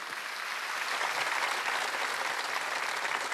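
A church congregation at a Wednesday worship service breaks into steady, sustained applause, a dense wash of many hands clapping together at moderate level without a break.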